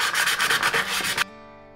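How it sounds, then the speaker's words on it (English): Hand sanding a wooden thrift store decor piece, a series of quick, close rasping strokes in a steady rhythm that stop abruptly, leaving only a faint hum. "Okay, let's sand this here."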